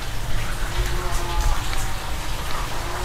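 Rain falling on outdoor surfaces, a dense continuous patter heard close and fairly loud throughout, with no clear speech over it.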